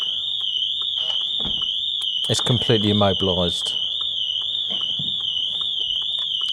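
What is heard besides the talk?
Audi TT RS car alarm going off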